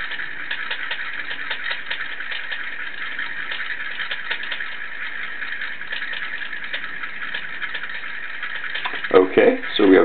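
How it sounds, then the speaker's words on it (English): A stirrer runs during two-point calibration of an HI 208 pH meter, giving a steady, even hum throughout with a couple of louder knocks near the end. "Turn the stirrer back on."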